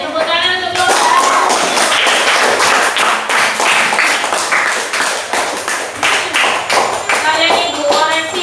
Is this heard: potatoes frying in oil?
no